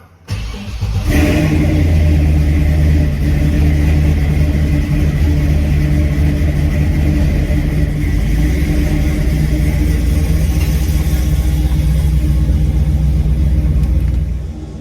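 A 1955 Chevrolet Bel Air with a V8 making around 450 horsepower starts its first drive, the engine rumbling steadily and loudly close by, with a constant low growl and throttle build-up throughout, and no talking.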